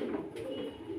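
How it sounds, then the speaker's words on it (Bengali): Danish pigeons at a farm give a low, rolling coo that carries steadily through the short moment, soft and nearby. "কবুতর"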